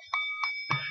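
A small hand bell struck three times at an even pace, with bright ringing tones that hang between strikes; the last strike is muddied by a low thump.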